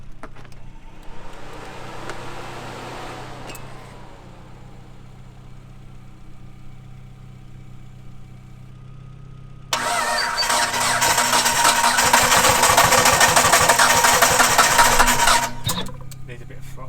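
Big-turbo 700+ horsepower Mitsubishi Evo V engine cranking over for a first start, then catching and running loudly with a broad rough roar, with people talking nearby.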